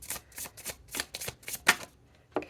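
Tarot cards are shuffled by hand in a close, quiet series of soft papery riffles and slaps, about seven quick bursts followed by a brief pause and one last flick.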